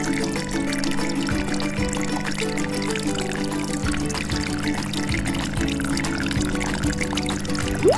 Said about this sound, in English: My tri-flow pump is running.